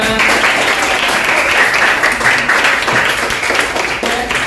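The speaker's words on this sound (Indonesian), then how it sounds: "kelompok 1, kelompok 2, kelompok 3, kelompok 4, kelompok 5, tepuk tangan semuanya" Classroom students applauding all five presentation groups during a teaching performance test, dense continuous clapping close by with many hands.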